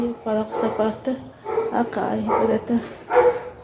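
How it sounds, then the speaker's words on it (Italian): A dog barks and yips indoors in a home during cleaning, the short barks scattered under continuous talking by a woman in the foreground. "Scusate il cane che abbaia"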